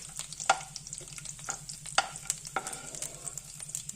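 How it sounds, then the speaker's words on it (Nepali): Raw peanuts fry in ghee in a wok with a quiet, crackling sizzle, punctuated by sharp clicks and scrapes of stirring, close up and moderately soft. "अब घिउमा चाहिँ काँचो बदाम म फुर्याउँदै छु।"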